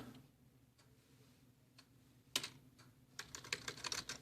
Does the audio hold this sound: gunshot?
no